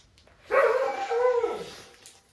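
A dog outside at night lets out one drawn-out bark that trails into a whining yelp, moderately close against a quiet background.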